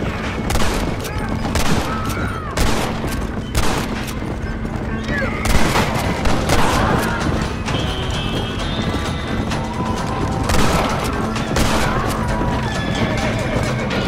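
Gunfire in the Western video game Red Dead Redemption: repeated sharp shots ring out over steady hoofbeats from horses and a busy game soundscape, fairly loud and continuous throughout.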